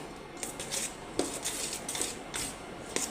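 A spoon stirs shrikhand, a thick sweet strained yogurt, in a bowl, making a quick series of close metallic scrapes and clinks in a steady rhythm, with no talking.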